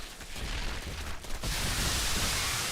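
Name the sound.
Baneling explosions in StarCraft II video game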